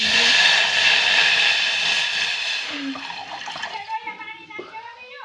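Water pours into a cooking pot in a continuous splashing stream that rises in pitch as the pot fills, then tapers into lighter trickles and drips.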